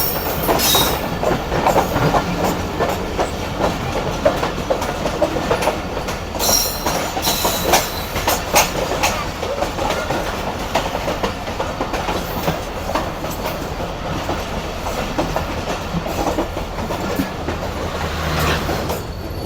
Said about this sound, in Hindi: और ये आ गई 14 डाउन अवाम एक्सप्रेस